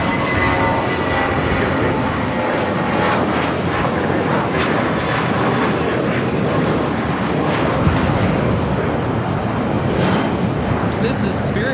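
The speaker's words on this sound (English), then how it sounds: "This is Spirit Airlines 816 taking off to Kansas City on an A320." A Spirit Airlines Airbus A320 takes off at Los Angeles airport, a loud, sustained roar of jet engines with broad rushing noise and wind buffeting that persists for the whole stretch.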